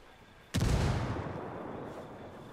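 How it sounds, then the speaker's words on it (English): A frag grenade detonates in the shooter game Ghost War with a single sudden, heavy blast followed by a long rumbling decay, loud and close. "Frag out"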